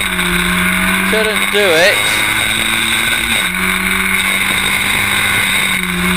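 Historic Formula Ford race cars compete at Snetterton in a 2014 round, their engines droning and shifting pitch as they pass, while a commentator talks over the racing throughout.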